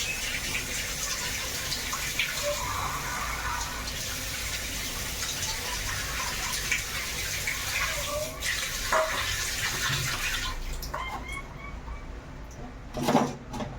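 Water is poured into a pot of home-style Odia palak dal with spinach while it cooks, a steady splashing gush that runs for several seconds before tapering off, with a few clinks near the end.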